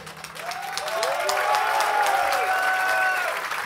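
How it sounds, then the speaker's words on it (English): Audience at a Gorguts metal show at Saint Vitus claps and cheers in a sustained, dense wash that swells after the first second, with a sliding guitar feedback drone ringing over it. "Good clap for these guys."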